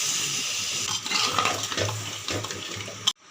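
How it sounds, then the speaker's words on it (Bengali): Water is poured into a pan of soybean curry cooked with spices, without onion or garlic. It gives a continuous splashing pour for about three seconds that cuts off abruptly. "তার জন্য একটু জল দিয়ে দিলাম"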